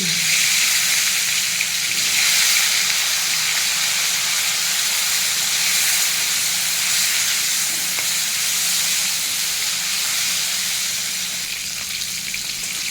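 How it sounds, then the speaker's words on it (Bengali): Cauliflower florets coated in salt and turmeric fry in hot oil, a loud, steady, close sizzle and hiss that carries on without a break. "প্রথমেই ভেজে নেবো ফুলকপি"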